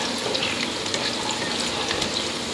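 Onions fry in hot oil in a home kitchen, giving a dense, steady sizzle that stays loud and even from start to finish with no talking.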